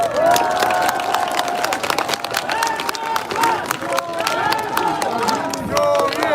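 A crowd at an outdoor campaign rally in front of a department store applauds and cheers, steady dense clapping mixed with shouts and whistles that fills the whole stretch at a loud, even level.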